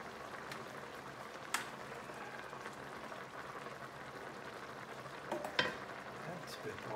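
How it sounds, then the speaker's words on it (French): Rigatoni sauce with sausage and broccoli simmers gently in a pan over lowered heat, giving a faint, steady sizzle with a few sharp utensil clinks and stirring scrapes. "Je vais baisser mon feu un petit peu pour que ça mijote tranquillement."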